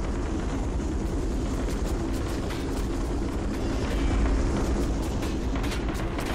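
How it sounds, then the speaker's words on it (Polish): Helicopter rotor drone and engine rumble in the online shooter Metro Conflict, a steady dense wash of low thudding noise and broadband roar running throughout without speech. "Teraz nową taką sprawą jest taki helikopter."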